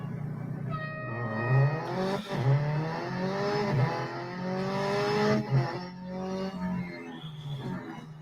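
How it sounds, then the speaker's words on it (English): A Hyundai i20 N Rally1 rally car engine in Real Racing 3 revs hard and straining, its pitch climbing and dropping through repeated gear changes. It is loud and continuous, with no talk. "You can hear the car struggling."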